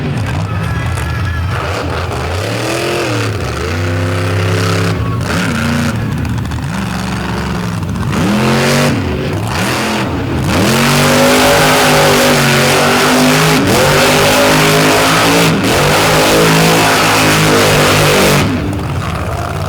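A motorsport machine's engine revs hard and repeatedly during a freestyle run at a Chattanooga show, the loud pitch sweeping up and down in rhythmic bursts and growing louder toward the end, with faint talk underneath.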